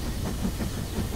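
A cartoon train rumbles through a tunnel, giving a steady, dense hiss and low chugging that stays fairly loud throughout with no talk.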